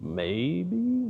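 A peacock calls from a house roof, one loud, wailing, strongly harmonic cry lasting about half a second, followed by a voice speaking briefly.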